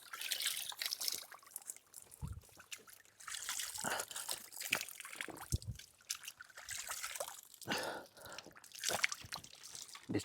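Water seeping and trickling from a spring in a Nepal forest, a faint broken dribble of small drips and splashes close by, with scattered bursts of noise and no clear talk.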